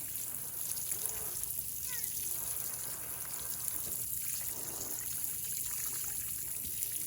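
Water mixed with calcium nitrate trickles and dribbles steadily onto a newly planted giant pumpkin plant outdoors, a soft continuous pour over a constant background hiss.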